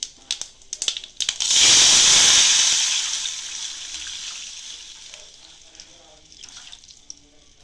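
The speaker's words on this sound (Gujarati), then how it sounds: "હવે આમાં આપણે આપણું આ બેટર અંદર નાખી દઈશું" Besan batter being poured into a pot for Kathiyawadi Gujarati kadhi, a loud rushing pour and hiss that bursts in after a few clatters, then fades into a softer lingering simmer.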